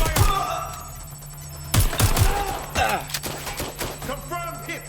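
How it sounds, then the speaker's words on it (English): Gunfire in the video game Watch Dogs Legion, loud sharp shots and rapid bursts mixed with game voices and effects, close and busy throughout. "I'm taking fire."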